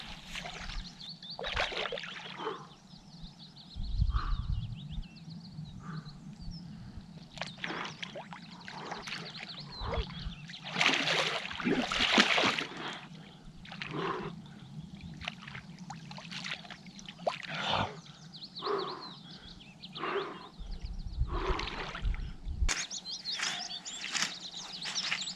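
Water splashing and pouring in irregular bursts while someone bathes outdoors in the Scottish woods, close and fairly quiet, with faint birdsong and a low steady background hum.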